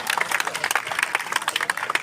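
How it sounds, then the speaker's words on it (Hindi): At a welcome for the SFI student panel of Shekhawati University in Shobhasar, an audience applauds loudly with dense, continuous clapping that carries a busy crackle throughout. "सभा जोरदार ताली से अभिनंदन कीजिए"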